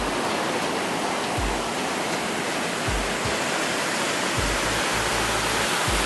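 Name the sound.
storm water gushing from drainage discharge point into Awan River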